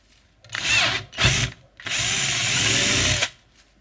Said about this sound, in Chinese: 打孔已经完成